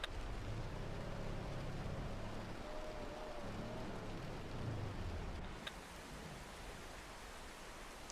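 Heavy rain hisses in a broad, steady wash during a storm-chasing video game, a dense roar with low rumbling underneath and a brief sharp tick partway through.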